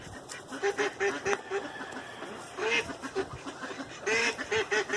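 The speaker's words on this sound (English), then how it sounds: "Quiet, you ducks!" Ducks quack repeatedly in loud bursts of several calls at a time, close by, with a steady background hum between the bursts.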